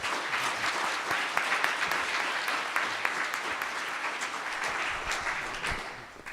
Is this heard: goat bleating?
no